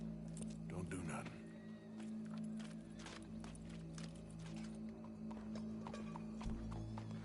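Horse hooves clip-clopping in the video game Red Dead Redemption 2, a steady close rhythm with a whinny, heard under game dialogue and ambient sound.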